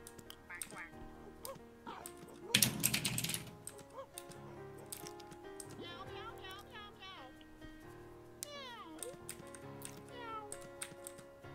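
A cat meows repeatedly inside the video game Toontown, its cries standing out over game music and effects, with a loud burst of noise early on.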